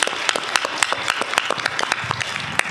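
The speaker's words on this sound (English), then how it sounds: "Congratulations. You get the round of applause" Brief applause for a contestant at an opera-themed quiz show, with distinct claps standing out in a short burst; crowd voices stir underneath.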